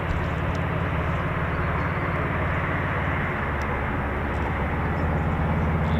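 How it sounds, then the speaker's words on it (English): An MC-130J military transport aircraft produces a loud, continuous, deep droning roar that holds steady and unbroken throughout, with no voices. "So this will be our third C-130, or MC-130 to be exact."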